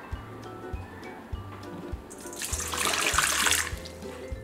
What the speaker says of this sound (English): First we just pour in our warm water.